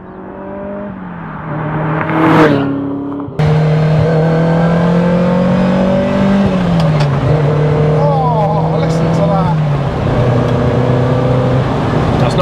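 A Ferrari Dino 308 GT4 V8 engine drones steadily and revs, its pitch climbing and dropping between gear changes, with a voice talking briefly over it.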